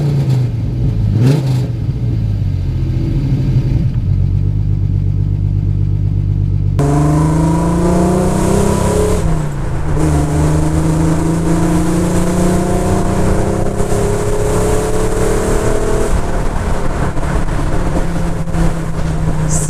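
A TVR S3 convertible with its Ford Granada engine growls loudly and continuously on the road, revs climbing and dropping through gear changes, with no voices.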